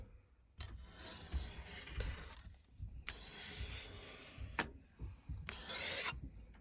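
Bursts of harsh rasping scrape as wood for scratch-built model railroad ties is distressed and textured, several long back-and-forth strokes separated by short pauses, close and loud with no talking.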